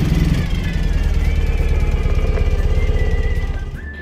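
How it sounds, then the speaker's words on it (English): A Ural motorcycle with a sidecar runs steadily, its engine throbbing loud and close in a dense low rumble with a fast regular pulse, holding level for about four seconds before easing off at the end. "It was a Ural motorcycle with a sidecar."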